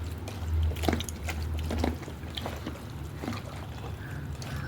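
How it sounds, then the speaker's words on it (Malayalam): Thick coconut milk poured into a squid curry makes a steady close trickle and gurgle over a low background hum, with a few faint drips and no talking. "ശകലം തേങ്ങാപ്പാൽ, കട്ടി തേങ്ങാപ്പാൽ ഇതിലൊഴിക്കണം."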